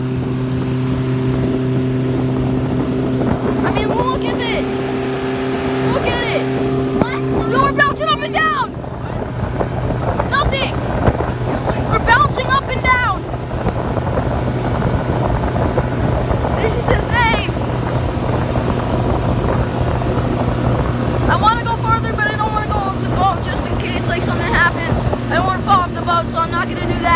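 A boat motor drones loudly at close range on choppy water, with heavy wind buffeting and splashing, while a person talks and yells over the engine throughout.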